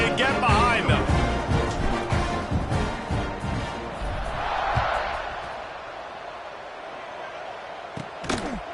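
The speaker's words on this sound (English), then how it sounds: "this crowd now ready to get behind them" A football stadium crowd at a Broncos versus Bears game roars loudly and steadily just before kickoff, a dense wash of cheering with sharp bursts and claps, easing into a softer sustained murmur toward the end.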